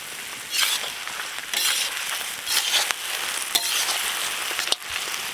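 Byadgi chillies, chopped onion and green chillies fry steadily in hot oil with a loud continuous sizzle, punctuated by occasional stirring scrapes and clinks from the pan.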